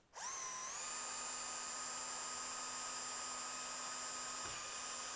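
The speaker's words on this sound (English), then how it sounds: "So I'm going to use a brad point drill, and I'll put it on there." A small high-pitched drill with a brad point bit spins up sharply and keeps whining steadily while boring into a battery case. The sound is close and continuous, with a brief dip near the end.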